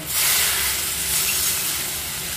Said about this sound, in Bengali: এবার আমি দিয়ে দেবো এতে পরিমাণ মতো জল